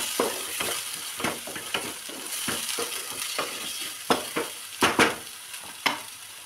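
Whole masoor lentil masala with turmeric and coriander-cumin powder is sautéed in a pan under a soft, constant sizzle, with repeated close scrapes and knocks of a spoon stirring.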